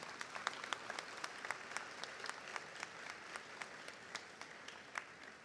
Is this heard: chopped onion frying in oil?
no